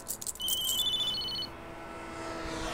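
A telephone rings with a bright, electronic trilling tone against a low hum, the ring stopping after about a second and a half as the line goes quiet, with no speech.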